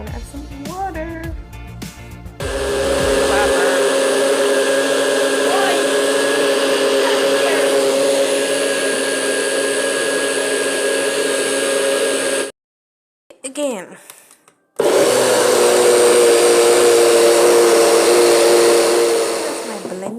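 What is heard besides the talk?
blender blending frozen fruit, pineapple and watermelon with water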